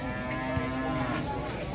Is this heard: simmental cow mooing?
yes